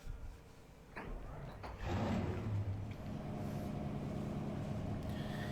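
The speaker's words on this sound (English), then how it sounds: "Drivers, start your engines!" Race car engines in NASCAR Racing 2003 fire up with a thump and settle into a steady, low, rumbling idle that holds at a moderate level, with no voices.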